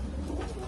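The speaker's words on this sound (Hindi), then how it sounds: "लो आदिल भाई जी, असलम भाई जी, चेक करो ये सारा माल आपका जो पंजाबी मलवई कबूतर है" Punjabi Malwai pigeons cooing, a brief low throaty coo close by, with no talk over it.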